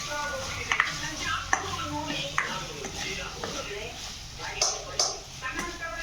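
Vegetables and salt being mixed for veg fried rice in a pan, with a spoon scraping and clinking against the metal in an irregular rhythm, a few sharper knocks standing out, while people talk in the background.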